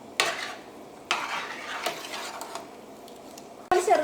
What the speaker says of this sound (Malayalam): ഇതെല്ലാം കൂടിയിട്ട് നമുക്ക് നന്നായിട്ടൊന്ന് മിക്സ് ചെയ്യാം.